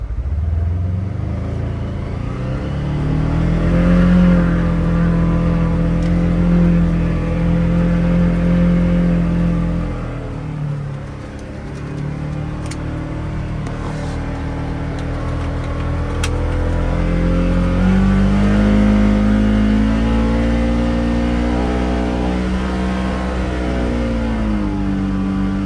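A 2024 Polaris Xpedition off-road vehicle engine revs and accelerates through low gear, its droning pitch rising, dipping and climbing again over a long run, close and loud with no talk.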